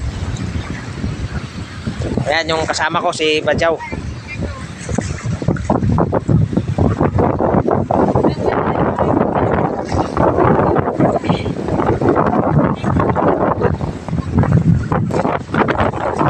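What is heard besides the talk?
strong wind on the sea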